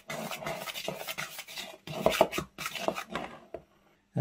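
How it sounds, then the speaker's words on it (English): Spoon stirring and scraping dry ingredients into flour in a mixing bowl while making a Yule log, with repeated close rubbing and clinking strokes in an irregular rhythm and no talking. "add that to the flour. And mix it in"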